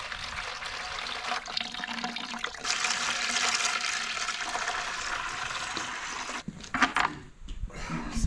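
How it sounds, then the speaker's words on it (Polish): Water gushes steadily into a plaster bucket being filled to the brim for a Christmas tree stand, a loud, close, continuous rushing pour that breaks into a few splashy gurgles near the end, with no talking. "teraz trzeba nalać wody do pełna i przetestować"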